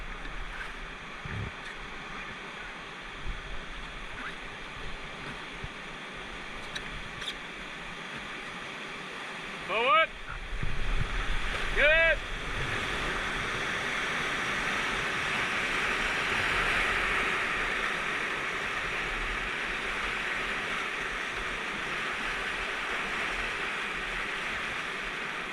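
Class IV river whitewater rushes in a steady broadband roar. Voices shout and talk briefly over it, and the roar swells louder later on.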